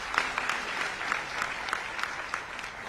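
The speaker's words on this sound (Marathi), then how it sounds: "त्यांचं सर्वांनी टाळ्या वाजवून स्वागत करायचं." An audience claps steadily to welcome a former Supreme Court judge at a book launch event, a dense, even patter of many hands heard from a moderate distance.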